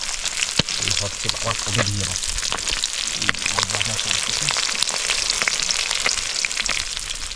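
Fish fries in a pan over a cooking fire at a campsite in the Andaman Islands, a loud, constant sizzle and crackle with occasional stirring clicks and faint voices low in the background.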